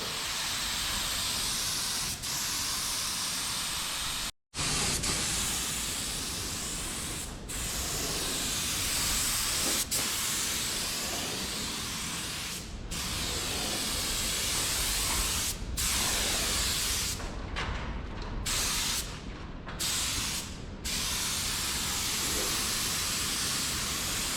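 A spray gun hisses steadily through a garage while two-tone paint goes onto a Chevy Cruze, a long continuous spray with a few brief cutoffs as the trigger is released and pressed again.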